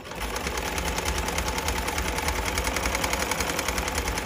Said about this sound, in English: I'm sewing the over the edge zigzag